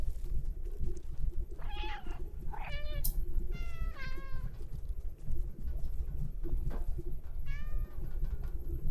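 Cats in the video game Stray meow several times in a row, clear drawn-out meows over a steady low background hum, followed later by one more meow.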